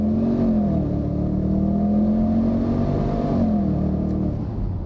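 An Audi RS6 engine, 440 horsepower, revs steadily through its exhaust, a loud, sustained throaty drone that rises and falls slightly, with no voices.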